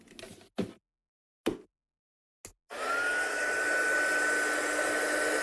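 A heat gun blows steadily over craft material in a studio, a loud continuous whooshing roar with a faint high whine that starts after a few short knocks and bumps and runs on without a break.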